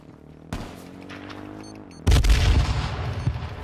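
Video game gunfire from a mountaintop battle: a steady run of shots, then a loud close burst of rapid heavy fire that keeps rolling to the end, with no talking.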